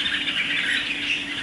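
Captive bird offered for sale, a wild-caught adult, giving a loud, close, continuous shrill call that holds through the moment with no talk.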